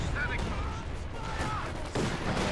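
Artillery from the Ziz gun fires in barrage mode in a strategy game, sounding as a rapid scatter of booming impacts layered over continuous rumble, with talking running over the barrage.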